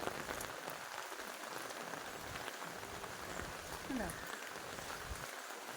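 Steady, soft rain patters on surfaces during heavy rain with flooded roads, a continuous hiss with a faint voice now and then in the background.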